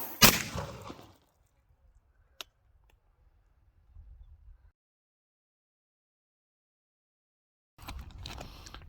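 A single sharp gunshot at an outdoor shooting session, preceded by a loud burst and followed by low rumbling handling noise and a stretch of near silence before more noise returns.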